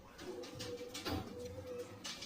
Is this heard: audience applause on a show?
no